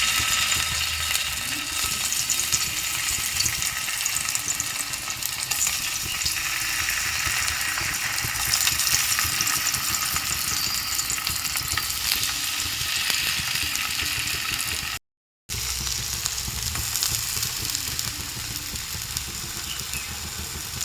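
Raw plantain pieces frying in a little oil in a pan over slow heat, giving a steady, close hiss and crackle that runs throughout with a brief cut partway, with no talk.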